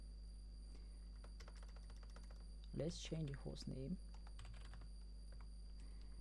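Brisk clicks of a computer keyboard as Cisco router configuration commands are entered, a steady run of light keystrokes at moderate distance, paused briefly while someone speaks over a low constant hum.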